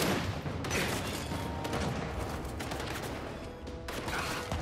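Dense, continuous enemy gunfire in Gears 5 on the level The Trap, rapid overlapping shots and bursts filling the whole stretch at steady loudness with no pause.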